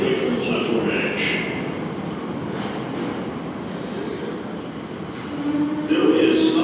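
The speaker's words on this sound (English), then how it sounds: "Approaching the station, please stand away from the platform edge." A New York subway train, a 2 line service, rumbles steadily on a Brooklyn platform, with a rising squeal of wheels near the end as it approaches the station.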